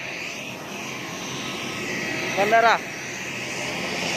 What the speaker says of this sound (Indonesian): Ini ada pesawat baru datang, Wings Air ATR 72600.